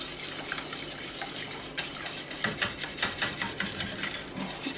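Cream is stirred into a chocolate mirror glaze mixture in a pot, a close, quick rhythmic scraping and swishing of the utensil repeating steadily without talk.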